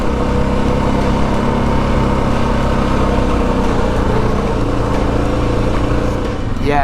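A motorcycle engine running steadily at low speed on a trail ride, a loud continuous droning putt with no breaks, close to the rider.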